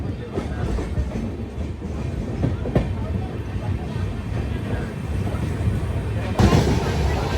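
Falaknuma Express superfast train running near Bibinagar station while crossing the Telangana Express, a steady rumbling roar of wheels and carriages with faint rhythmic clacks, a louder rush near the end.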